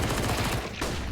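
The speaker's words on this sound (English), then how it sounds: "Fiku ended up shooting the AK off here." AK rifle fire in the video game CS:GO crackles as a dense, rapid burst of gunshots lasting about a second, loud and close with no pause.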